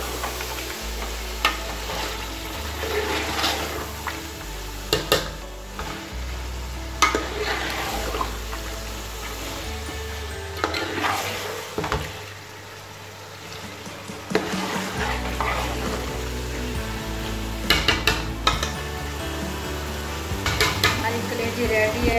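Liver frying in a pan with greens and chopped green chillies, a steady close sizzle with a spoon repeatedly scraping and clinking against the metal pan as the mixture is stirred.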